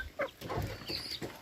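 Native chickens in a backyard flock cluck softly in short, scattered calls, fairly faint and close by, with no talking over them.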